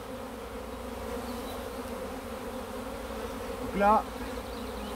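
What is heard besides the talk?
honeybee swarm leaving a hive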